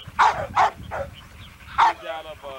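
A dog at a kennel yard gives four sharp, loud barks, three close together and then a final one after a pause, with background noise between them.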